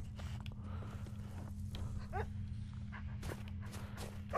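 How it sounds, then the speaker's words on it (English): Dog whimpers and small noises from a companion dog in the video game Skyrim, heard over a busy game soundscape with shuffling footsteps, fairly soft and intermittent. "Stop making noises, you useless dog."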